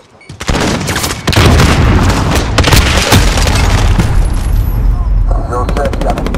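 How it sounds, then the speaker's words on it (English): A grenade blast and rapid gunfire in Call of Duty: Modern Warfare at a construction site, loud and dense battle noise with bursts and booms throughout, with a voice briefly calling out over it. "Grenade out!"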